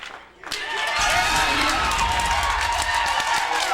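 A crowd cheers and applauds at the 2000 IHSA boys swimming and diving state finals, the roar swelling abruptly after a quiet moment into a loud, steady wall of cheering that holds to the end.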